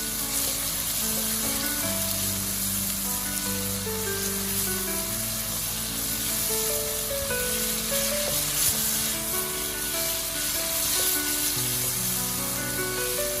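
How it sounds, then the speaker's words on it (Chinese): Tomatoes and eggs stir-fried in a wok with a spoonful of tomato sauce added, giving a loud, constant close sizzle and hiss with occasional scraping stirs, while background music plays underneath. "继续煸炒均匀"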